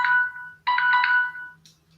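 Mobile phone ringtone chiming in a quiet room during a yoga session, two bright electronic melodic bursts close by, the second longer, followed by a short faint tone.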